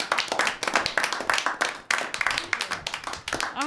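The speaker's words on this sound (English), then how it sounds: "Let's give her a round of applause." An audience applauds to welcome a show's host, steady dense clapping throughout, fairly near, with a few brief voices mixed in.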